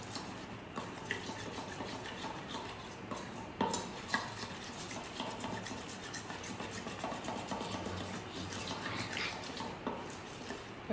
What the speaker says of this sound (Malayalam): ഇനി ഇതിലേക്ക് ഒരു 1/2 ടീസ്പൂൺ അളവിൽ സൺഫ്ലവർ ഓയിൽ ചേർത്ത് കൊടുക്കുക. ഇത് നന്നായിട്ടൊന്ന് മിക്സ് ചെയ്തെടുക്കുക.